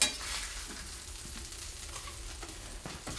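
A steak sizzles in a hot pan, a soft continuous crackling fry with small irregular pops, heard alone and fairly quiet.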